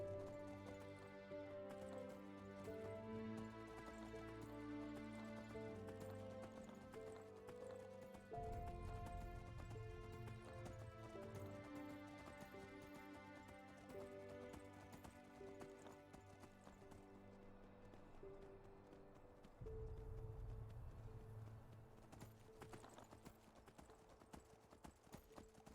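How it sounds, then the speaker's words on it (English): Horse hooves clip-clopping steadily in Enderal, a Skyrim mod video game, a continuous rhythmic trot set under a layer of tonal game music throughout. "Hello, horse. My trusty ass."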